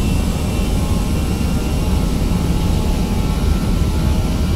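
Airbus A320 jet engines of a Vietjet airliner at takeoff power on the runway at Hong Kong, a loud, steady, broadband roar that fills the whole clip without letting up.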